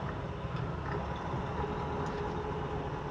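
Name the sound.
truck engine revving while shifting to 5th gear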